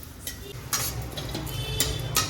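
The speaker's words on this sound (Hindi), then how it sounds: "2 मिनट के लिए ऐसा ही देखो चला चला के भूनेंगे अच्छे से" Sunflower seeds and sesame seeds are roasted in a pan and stirred, giving soft scrapes and scattered light clicks against the metal, fairly quiet and close.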